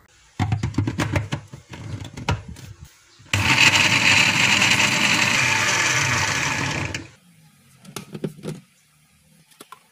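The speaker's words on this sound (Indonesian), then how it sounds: "Ini di blender biar lebih cepat aja ya." Kitchen blender grinding chilies and shallots with a little water, a loud steady whirring burst of about four seconds, framed by clattering and handling noises before and after.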